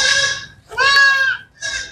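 A goat offered for sale bleats loudly and close by in three drawn-out cries, the middle one longest, with no talking over them.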